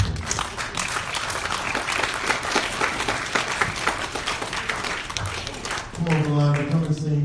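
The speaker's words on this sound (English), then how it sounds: "You got a hand clap, praise" Church congregation giving a praise hand clap, a busy burst of many hands clapping close by for several seconds, then giving way to a sustained sung or spoken tone near the end.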